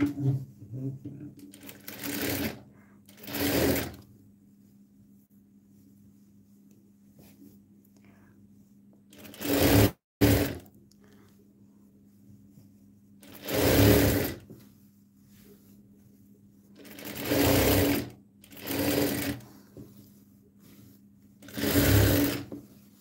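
A sewing machine stitches a dress sleeve in several short bursts of whirring separated by quiet pauses, close to the microphone, with a soft voice murmuring faintly in the gaps.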